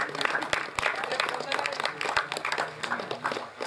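Crowd applause at a village prize distribution ceremony: a dense patter of many hands clapping, with a voice speaking over it throughout.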